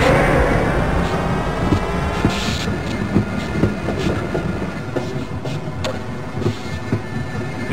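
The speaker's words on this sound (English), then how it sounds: "Press your Use key to engage the train." A tram-like train car rolls along rails in the 2001 PC game Half-Life: Blue Shift, giving a steady rumble with repeated rhythmic clacks and metallic clicks that gradually ease off, with no talking.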